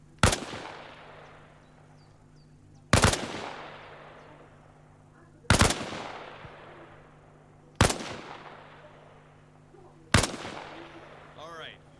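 Rifle shots in the military game Arma Reforger during a training exercise, fired from behind a wall: five single sharp, loud cracks spaced a few seconds apart, each trailing into a decaying echo.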